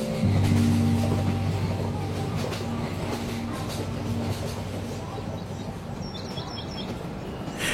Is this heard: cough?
no